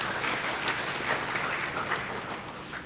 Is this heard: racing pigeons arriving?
no